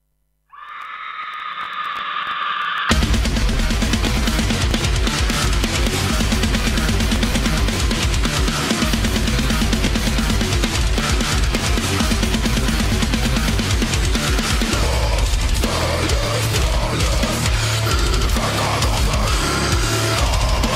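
A song by a band from Buenos Aires province opens with a brief squealing intro and then breaks into a loud, dense, driving full-band rock sound that continues without talking.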